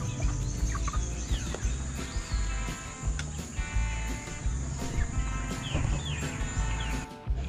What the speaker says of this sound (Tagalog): natapos na natin patukain ng ating manok